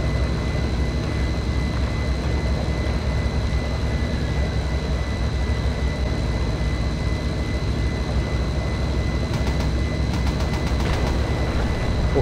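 Messerschmitt Bf-109 fighter taking off in the Project Reality game at night, a loud steady engine drone with a constant whine that holds for the whole stretch, and a few brief rattles near the end.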